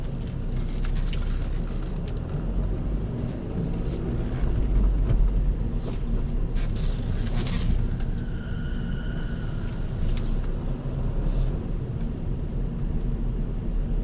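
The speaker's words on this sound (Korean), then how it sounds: "자, 지금 2단 15km 정도 주행을 하고 있죠." Car rolling slowly in second gear at around 15 km/h, a steady low engine drone and road rumble throughout with a faint whine rising briefly partway through.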